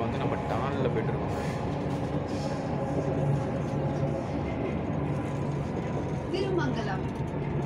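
A Chennai Metro train running between stations, a steady rumbling hum of the carriage with faint rail clatter throughout, while people speak over it.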